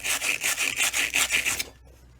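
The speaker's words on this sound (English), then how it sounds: "you're going to want to sand down the insides of what you just did" Sandpaper of fairly low grit rubs the inside of old off-road suspension arms in about eight quick back-and-forth strokes, close and rhythmic, then stops into quiet.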